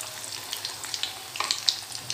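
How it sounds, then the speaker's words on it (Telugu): Egg 65 pieces frying in hot oil, a steady close sizzle with small crackles and pops throughout. "సో ఇది కూడా కొంచెం గోల్డెన్ బ్రౌన్ వచ్చేంత వరకు ఫ్రై చేసుకొని స్ట్రెయిన్ చేసుకొని పక్కకు తీసేసుకోవడమే."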